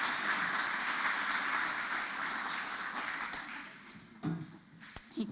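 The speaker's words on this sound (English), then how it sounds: "Give yourselves a round of applause." Audience applause at a charity awards event honoring do-gooders: a dense, steady wash of many hands clapping that thins out toward the end, with a few stray claps and a faint voice breaking through.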